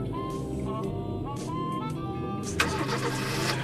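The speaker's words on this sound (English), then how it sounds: "Start the car." An in-game car engine in the Lucius video game cranks and catches, with a whirring starter leading into a sharp ignition and a steady running rumble, loud and close with no talking over it.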